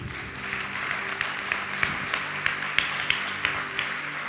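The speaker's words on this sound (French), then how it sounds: "Amen. On l'applaudit." Moderate applause from a church congregation fills the room steadily, a broad wash of many hands with a few sharper individual claps standing out. No voices are prominent over it.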